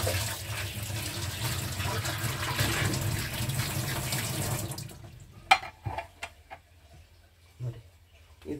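A kitchen tap runs steadily into a sink while dishes are washed, then the flow stops and a few sharp clinks and clatters of dishes follow at close range.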